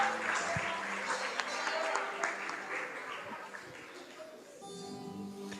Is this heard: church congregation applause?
yes